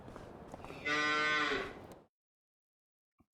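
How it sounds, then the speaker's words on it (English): A single loud cow moo in the Farming Simulator 25 video game, a drawn-out bellow lasting about a second, with quieter background shuffling before it and near silence after. "I added 25 more cows, so we're up to 50"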